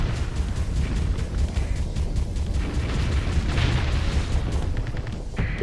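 Starsector space combat: a Legion-class warship destroyed in a sustained, dense rumble of explosions and booming blasts that fills the whole stretch at steady loudness, with crackling bursts layered over a deep low roar.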